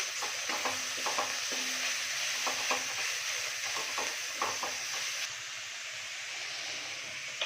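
Catfish bhurji is stirred in a frying pan with chilli powder and chopped chillies, making a continuous bright sizzle punctuated by repeated scraping stir strokes that fade slightly near the end.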